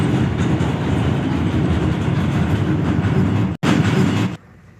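A passing train rumbles loudly and steadily along the railway tracks with a continuous clatter and roar close by, then cuts off abruptly into quieter background near the end.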